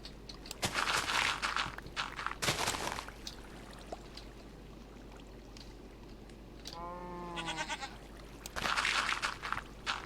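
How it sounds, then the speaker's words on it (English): A goat in the video game Minecraft bleats in a wavering, stuttering call midway through, amid bursts of noisy digging and block sounds that come and go in a busy game scene. "not gonna get any peace from this stupid goat"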